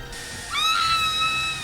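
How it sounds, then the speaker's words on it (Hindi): A woman's shrill scream played back from an iPod recording starts abruptly after a moment of low hiss and holds as a sustained high cry to the end. "इसके अंदर है हेयर ड्रायर की आवाज और वो चीख।"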